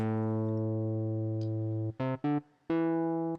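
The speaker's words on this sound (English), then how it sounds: "This is the original bass, not the sub bass." A buzzy, harmonically rich hip-hop synth bass in Ableton Live plays solo: one long held note, then a few short clipped notes and another sustained tone.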